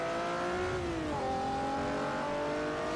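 Race car engine in Forza Motorsport 4, revving loud and steady throughout, its pitch climbing, dropping briefly near the middle as a gear changes, then holding high again with a droning exhaust note.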